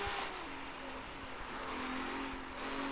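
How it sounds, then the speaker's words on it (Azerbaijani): Engine of a Porsche in the street racing game CarX Street, a steady droning hum with a rising tone and broadband rush, continuous and fairly quiet throughout with no talking. "İstəsiz biraz motorun səsini sizə dinlədim."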